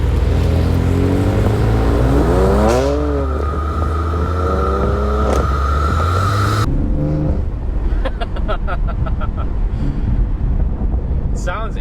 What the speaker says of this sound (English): the valves are open and it's essentially bypassing the exhaust. There's zero drone and it just sounds amazing.